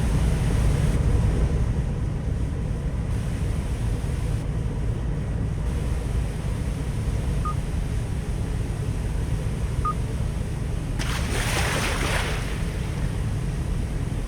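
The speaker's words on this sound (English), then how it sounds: "Some nice waves there." Ocean waves in the fishing game Fishing: North Atlantic form a constant broadband wash of surf and wind that stays steady throughout, with a brief brighter swell near the end and two faint tiny blips.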